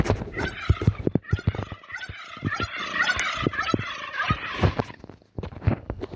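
Several turkeys in the game Brookhaven RP gobble loudly and repeatedly, their rapid warbling calls overlapping in quick bursts with barely a pause between them.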